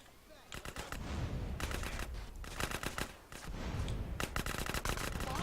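Grenade explosions and gunfire in the game GTA San Andreas, dense repeated blasts and shots in bursts with brief lulls, loud and continuous with faint talk underneath.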